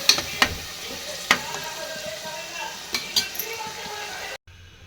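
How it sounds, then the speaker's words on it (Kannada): Ground masala paste sizzling in a little oil in a pan, stirred with a spoon, giving a steady soft crackle with a few sharp scraping clinks, close and fairly quiet, no talking. "ಸ್ವಲ್ಪ ಎಣ್ಣೆ ಒಳಗೆ ಫ್ರೈ ಮಾಡ್ಕೊಂಡ್ರಿ ಇದನ್ನು"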